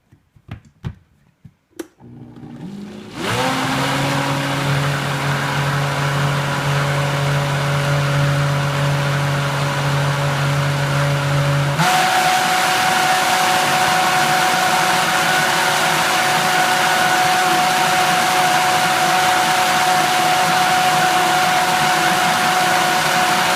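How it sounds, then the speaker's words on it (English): Electric mixer whipping a thick homemade skin cream in a bathroom, a steady close motor whine with a low hum that shifts partway through as the mixture thickens, continuing without pause. "did you hear that change, the beating when it was all mixing"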